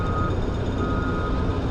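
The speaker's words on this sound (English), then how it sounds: "there goes the buzzer" A warning buzzer sounds at a stadium construction site with cranes lifting steel, a steady electronic tone held over a low rumble of heavy machinery and site noise.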